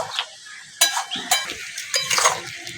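Amla pickle being mixed with salt and black salt in a pan: a few sharp scraping stirs and light clinks of a spoon against metal, close by, separated by brief quiet gaps.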